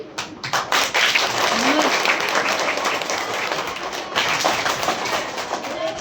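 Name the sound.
children clapping once on cue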